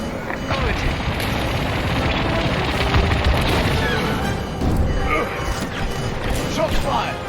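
Destroyed generator exploding in the space combat game Star Wars: Squadrons, a dense rumbling blast and crashing debris blended into continuous loud battle noise, with a voice talking over it.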